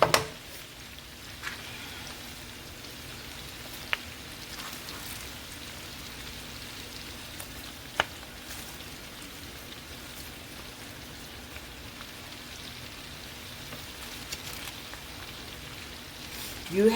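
Cabbage cooks in a hot frying pan for Southern fried cabbage, giving a steady, soft crackling sizzle with occasional faint clicks of a utensil stirring, fairly quiet and continuous without speech.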